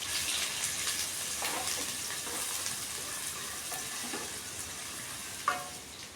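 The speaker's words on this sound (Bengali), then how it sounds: "একই কড়াইয়ে দিয়ে দিচ্ছি রান্নার সাদা তেল, দিয়ে দিব কুচনো পেঁয়াজ আর কেটে রাখা রসুন," Chopped onion and garlic fry in white cooking oil in a kadai, giving a soft, continuous sizzle with faint stirring. One brief clink comes near the end.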